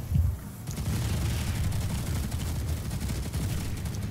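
Dense, continuous gunfire from a PlanetSide 2 battle, a sharp burst at the start giving way to steady rattling volleys with low booms underneath, loud and sustained.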